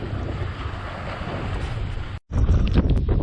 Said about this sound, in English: A very breezy day today at the Holiday Inn Resort here on North Shore